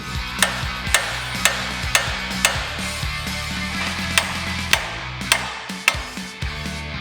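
Metal hammer strikes on a steering knuckle's tube yoke to free the taper, about a dozen sharp, close knocks at a steady but uneven rhythm, each ringing briefly over faint background hum.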